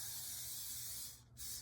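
Cooking spray hisses into an 8x8 baking pan in one continuous close, loud burst, broken by a brief pause before a second short spray.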